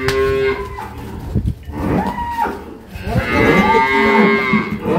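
A black dairy cow on a farm in Dinajpur moos loudly and close by, several long, drawn-out calls in succession with no talking.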